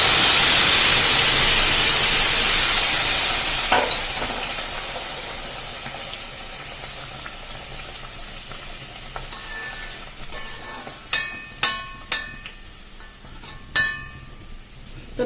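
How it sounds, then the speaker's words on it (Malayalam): A banana stem curry hits a hot tempering of onion, garlic and dried red chilli, bursting into a loud hiss that slowly fades to a gentle simmer, followed by several sharp spoon clanks against the pan. "ഇനി നമുക്ക് ആ കറി ഇതിലേക്ക് ഒഴിച്ചു കൊടുക്കാം"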